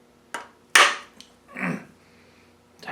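An oversized hammer strikes a steel punch three or four times, stamping numbers onto parts of a 4.8 LS V8 engine during bottom-end disassembly, producing sharp, close metallic blows spaced irregularly in a quiet shop.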